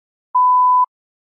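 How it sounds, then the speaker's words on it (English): A single steady electronic test-prompt beep for an English exam, one clean pure tone lasting about half a second, loud and isolated with silence before and after. "You may begin to prepare your response after the beep."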